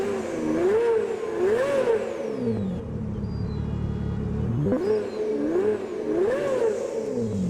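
A Pagani car engine in a racing video game sounds dull and muffled, as if heard underwater in a tunnel, with repeated rising revs and gear shifts in two bursts separated by a lower steady drone.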